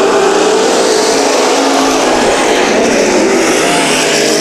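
IMCA stock cars race at Bakersfield, their engines roaring loud and continuous as the pack runs close together, a dense snarl of revving motors with no voices.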